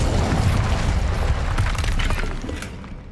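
The Incendio fire spell going off in Hogwarts Legacy: a loud, close whooshing blast of flame that bursts at once, rumbles for about two seconds, then trails away.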